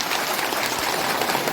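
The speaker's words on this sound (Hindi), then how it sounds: "इसके जोरदार ताली से आप इनका स्वागत करें।" A crowd at an outdoor ceremony with the forest department claps in a dense, steady burst of applause, continuous and fairly close throughout.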